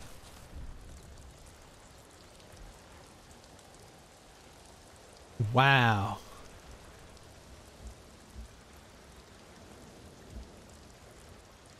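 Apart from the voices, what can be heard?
rain in video game Ghost of Tsushima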